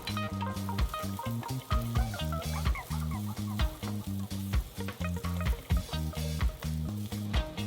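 Onions and shallots being stir-fried over medium-high heat for egg foo young, with a loud, close sizzle broken by rapid rhythmic scrapes and clanks of the spatula in the pan, and no voices.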